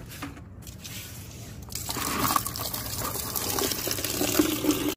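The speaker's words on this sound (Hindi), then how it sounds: "अब दोबारा फिर पानी भरते हैं यार" Water fills through a pipe, a low background hum giving way to a steady gushing, splashing flow that stays strong until it cuts off at the end, with no talking.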